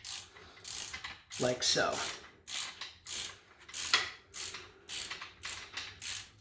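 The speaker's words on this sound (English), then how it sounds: "you tighten this down with a 13mm wrench" Ratcheting clicks from a 13mm socket wrench tightening a bicycle handlebar bolt, coming in quick repeated bursts of sharp metallic clicks close to the mic, with a brief spoken remark.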